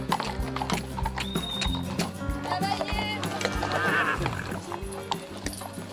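A loose herd of about two dozen horses on an open-country ride in Languedoc-Roussillon, with repeated neighs and whinnies and a steady clatter of hooves throughout, under a busy background of activity.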